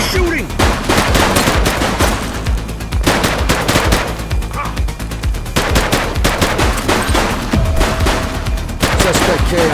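Rapid automatic gunfire and repeated shots from a top-down police action game, loud and continuous bursts over a game soundtrack, with brief shouted voices mixed in.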